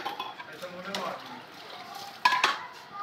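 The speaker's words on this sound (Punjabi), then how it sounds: "ਜ਼ਰਾ ਇਹ ਜ਼ਰਾ ਭਾਂਡੇ ਧੋ" Dishes, pots and pans clink and knock during washing on a wedding walima day, light scattered clatter with sharper metallic hits toward the end, and a voice speaking over it.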